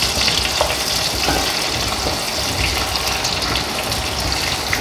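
Finely chopped shallots fry in hot oil for a tamarind gravy, giving a dense, continuous sizzle and crackle, close and steady throughout with no voices.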